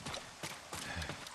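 Horse hooves clopping in Ghost of Tsushima, a steady run of hoofbeats landing in irregular clusters, fairly close and clear, with no talking over them.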